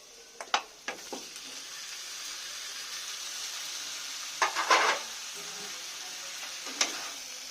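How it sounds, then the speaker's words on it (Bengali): Marinated mutton frying with spices in a pan for a gravy, a steady close sizzle running throughout, broken by a few sharp scraping stirs near the start, a louder clattering stir burst in the middle and one more near the end, with no talking. "আমি ভালো করে এবার মশলার সাথে কষে নেব সময় ধরে।"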